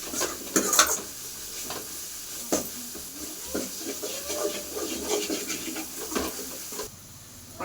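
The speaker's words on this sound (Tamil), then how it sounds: "பச்சை வாசம் போன வரைக்கும் வதக்கிக்கலாம்." Masala sautéing for a potato kurma, a spatula stirring and scraping the pan in steady strokes over a constant close sizzle, with a few sharp metallic clinks.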